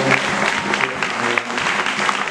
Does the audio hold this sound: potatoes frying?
no